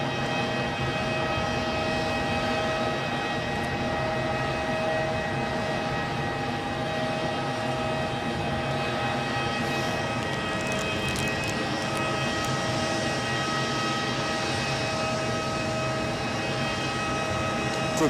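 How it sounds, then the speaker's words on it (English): ATR turboprop airliner departing Edinburgh Airport, a steady droning engine hum with tonal whine held at constant level throughout, heard from a distance outdoors. "Looks like we've got an ATR on the way out"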